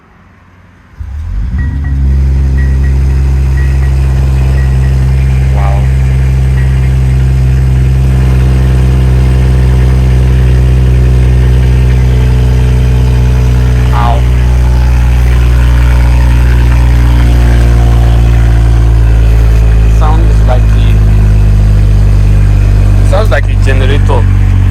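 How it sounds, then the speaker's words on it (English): A Mercedes-AMG E53 engine cranks and roars to life after a short quiet moment, then settles into a loud, deep, steady idle rumble up close. "you'll be able to hear the sound of the engine."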